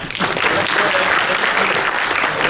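An audience applauds after a Diamond Jubilee Foundation Day lecture at IITM, loud, close and sustained clapping filling the whole stretch.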